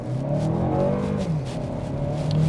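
A 2023 Toyota Crown Platinum HybridMAX accelerates from a standstill in an open parking lot, its engine rising steadily in pitch as it pulls away, loud and close.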